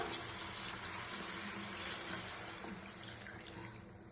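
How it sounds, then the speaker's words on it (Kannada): A steady rush of water pouring into a pan of fried chicken, continuous and fairly quiet, with a faint metallic clink near the end. "ನೀರು ಆ್ಯಡ್ ಮಾಡ್ಕೊತಾ ಇದ್ದೀನಿ."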